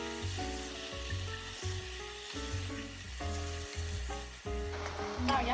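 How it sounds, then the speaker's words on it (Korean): Meat stir-frying in a pan at home, a steady sizzle over repeated low rhythmic thuds and scrapes of stirring, fairly close and continuous with no talk. "우선 고기 먼저 잘 볶아줄게요."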